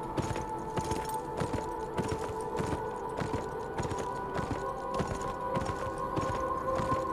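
Horse hooves clip-clopping in the video game Beyond: Two Souls, a steady quick rhythm of light taps over a soft game ambience, fairly quiet and without talk.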